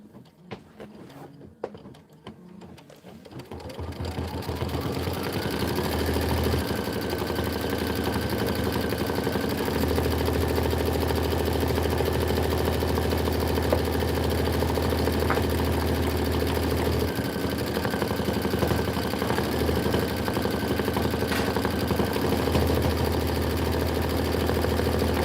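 A machine stitches a heart design on a winter-themed quilt block, starting after a quiet moment and then running as a steady, close, continuous mechanical hum and whir with no talking.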